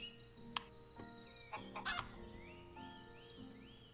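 Chickens in the farming game Equilinox cluck and chirp. The calls are quiet and overlapping, with a few short squawks and chirps over soft game ambience over four seconds.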